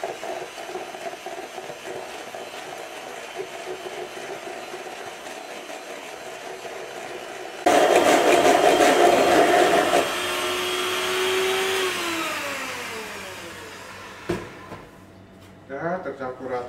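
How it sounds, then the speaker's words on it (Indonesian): Electric hand mixer beating Florentine ring cookie dough until evenly combined: a steady close whirring that runs for several seconds and changes pitch, with brief stops and restarts, and people talking at times over it. "Lalu kita mixer kembali sampai tercampur rata"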